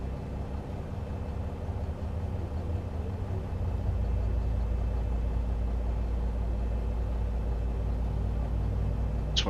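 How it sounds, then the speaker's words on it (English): Boeing 737 engines roar at startup in the ZIBO mod flight simulator, a steady low rumble that builds noticeably louder partway through and holds, with no talk over it. "we can hear those engines roaring"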